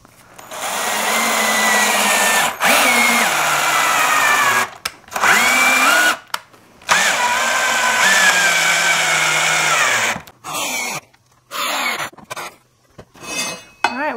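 A power drill whirs in repeated bursts, spinning up and driving screws into wooden bench boards, with short pauses and clatter between runs.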